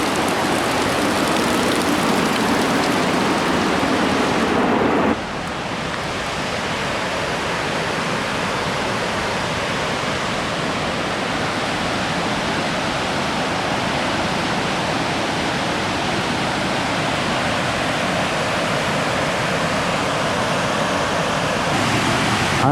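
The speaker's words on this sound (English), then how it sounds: "I almost didn't recognize it because it's rushing so hard from all of the rain over the last month, but this is Loowit Falls." Loowit Falls in Oregon roars after a month of heavy rain, a loud, steady broadband rush of falling water that holds constant throughout, slightly fuller in the first few seconds.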